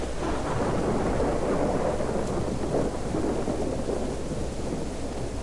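Heavy rain and a thunderstorm in the video game DayZ: a dense, steady roar of rainfall with deep rolling thunder underneath, loud and continuous throughout, with no talking.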